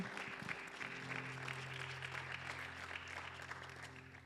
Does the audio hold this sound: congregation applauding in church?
yes